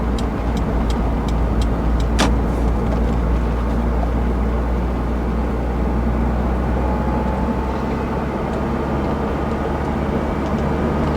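A Honda S2000 with a quiet exhaust drives along, giving a steady, even engine drone mixed with road noise, with no talking.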